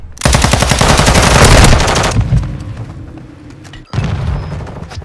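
Rapid automatic gunfire in a video game battle, a loud sustained burst of fast shots for about two seconds, then a quieter stretch and a sharp impact followed by another burst.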